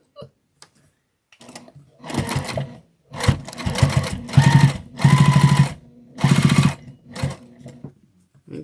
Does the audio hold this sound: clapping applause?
no